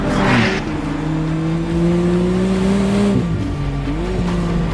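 A McLaren Artura driving past with a strong, sustained engine drone that holds steady, dips and shifts pitch near the end, loud and close, with light tire noise and no talk.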